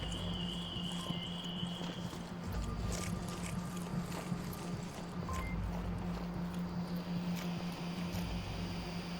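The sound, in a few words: footsteps on an overpass in video game Onward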